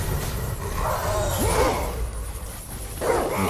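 Dogs barking in the God of War 3 video game, a few short yips and barks rising over a busy, noisy game soundscape with faint talk underneath.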